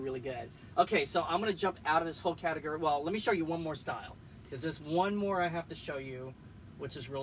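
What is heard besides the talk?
No everyday noise stands out behind the speech.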